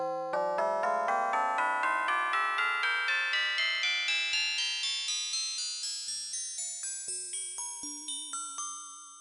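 Computer-generated melody composed in Python with music21 plays as a steady run of evenly spaced, bell-like synthetic notes, climbing in pitch before settling into a lower repeated pattern, with no voices.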